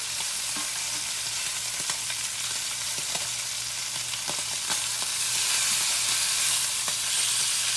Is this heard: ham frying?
yes